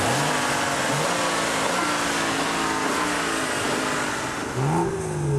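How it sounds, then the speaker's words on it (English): A BMW M235i's 3-litre turbocharged inline six pulls hard under acceleration, a loud, steady engine drone with rising harmonic sweeps as it revs through the gears, no talk over it. "The 3-litre turbocharged inline 6 packs a hefty punch."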